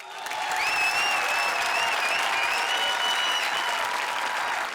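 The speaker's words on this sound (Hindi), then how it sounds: "जोरदार तालियों के साथ स्वागत कीजिए हमारी धुआंधार टीम्स का" Sustained studio audience applause greets the teams on a Hindi TV comedy show, steady and loud for nearly five seconds, with a bright whistle-like tone gliding over the clapping.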